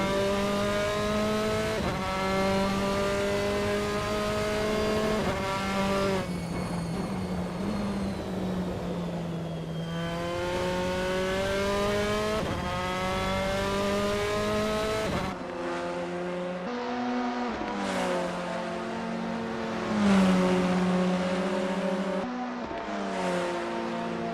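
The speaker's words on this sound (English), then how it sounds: "Josh Mitchell in 8th position, going through the fast right-hander of Curva Corsa." Formula 4 race cars at the Misano circuit in the Assetto Corsa racing game, loud engine notes rising and falling through gear changes as several cars pass and accelerate through a fast right-hand corner, with no talk.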